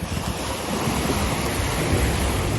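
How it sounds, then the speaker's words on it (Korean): Ocean waves wash steadily at Anmok Beach in Gangneung, a loud continuous roar of surf mixed with wind buffeting the microphone, with no voices. "보세요 파도소리와 함께"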